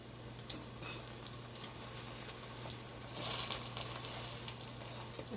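Cod fish fritters fry flat in a pan with a steady, soft sizzle and crackle, faint and continuous, with a low hum underneath and a few brief clinks.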